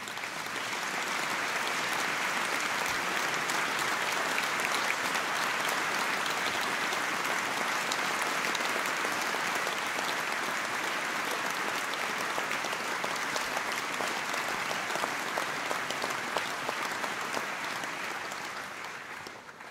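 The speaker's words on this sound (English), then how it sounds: "please, and receive a round of applause." An audience at a school speech day applauds in a long, dense, even burst of clapping that holds steady for nearly twenty seconds before easing slightly at the close.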